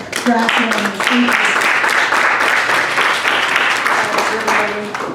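A library symposium audience claps in a sustained round of applause for a speaker, a full, steady wash of hands with a few voices briefly heard over it at the start and end.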